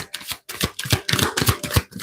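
A deck of tarot cards riffled in a deep shuffle, a rapid run of crisp flapping card snaps in quick bursts, close and fairly loud, with no talking.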